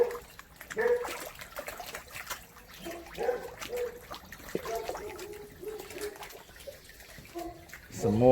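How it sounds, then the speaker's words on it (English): Koi splash and slurp at the surface of a cold garden pond in irregular bursts, close by, over trickling water and faint voices. "This is them feeding in pretty cold water."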